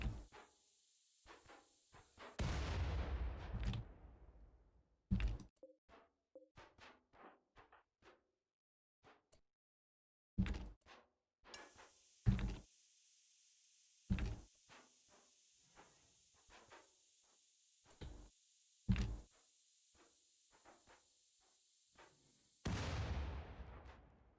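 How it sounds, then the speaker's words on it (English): Scattered sharp clanks and thuds from enemies breaking through destructible walls in a RimWorld-style colony game, irregular isolated hits over a steady hiss, with louder bursts at the start and end. "there's like clanging and it's because they're trying to like get through the walls now"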